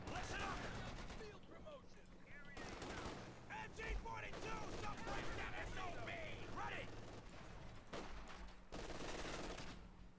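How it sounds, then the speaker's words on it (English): Incendiary rounds firing in a strategy video game, with dense, continuous bursts of gunfire and explosive crackle layered together at steady loudness, under intermittent talk. "Incendiary rounds coming in"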